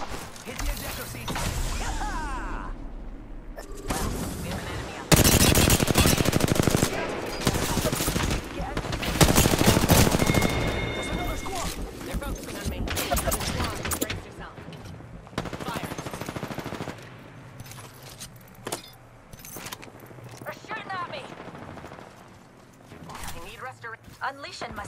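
Gunfire in the video game Apex Legends: loud bursts of automatic weapon fire and shots, with whooshes and mechanical clicks, mixed under a character's voice lines and in-game speech throughout.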